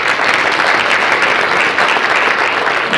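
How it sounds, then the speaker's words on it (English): Steady, loud applause from a graduation audience clapping for fathers at an AAMI ceremony, a continuous dense wash of many hands with no break. "So one last time, can we give these fathers a round of applause?"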